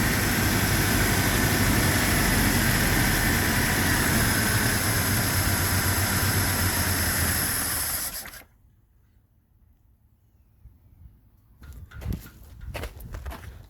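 A 1985 AMC Jeep Cherokee XJ Wagoneer Limited with a slight misfire idles loudly and steadily up close, then abruptly dies, leaving near silence broken by a few faint handling noises.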